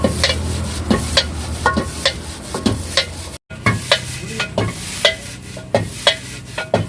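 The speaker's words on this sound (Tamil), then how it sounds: "இதை நல்லா ஃபயர் வச்சு டாஸ் பண்ணிக்கலாம்." Prawn noodles tossed with soy sauce in a wok over a high flame, metal scraping and clanking in a steady rhythm over a constant close sizzle, with one brief cut of silence midway.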